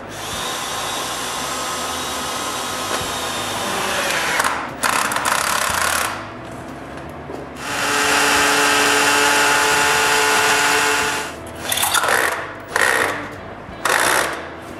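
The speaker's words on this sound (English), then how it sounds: "To do so, I screw a piece of wood between the styrofoam sheets." A power screwdriver drives screws into a piece of wood set between styrofoam sheets on a shop floor, with loud sustained whirring runs broken by short bursts and pauses, close and alone.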